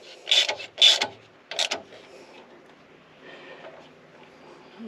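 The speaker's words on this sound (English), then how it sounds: "I'm going to go ahead and tighten the alternator up a little bit." Ratchet working on the alternator tensioner of a CAT 299D3XE compact track loader during a 1000-hour service, giving three short close clicking bursts in quick succession, then quiet mechanical handling noise.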